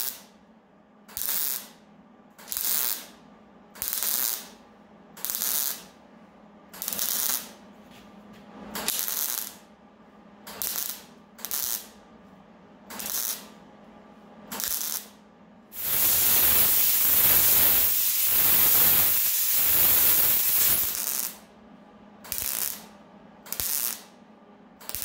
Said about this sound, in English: Now you just saw me there doing the spot welds along here and then cooling it off.